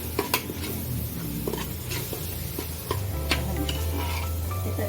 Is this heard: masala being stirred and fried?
yes